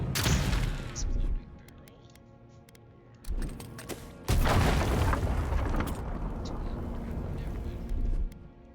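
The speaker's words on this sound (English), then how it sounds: "Exploding" Explosions in the game Avowed: deep booming blasts with rumbling, crackling tails, one early and a larger, sustained one midway, loud and near over a busy ambient bed.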